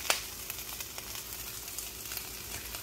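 Leftover white rice tipped into a hot pan, giving a steady low frying sizzle with a sharp crackle at the start and small pops scattered through, no voices.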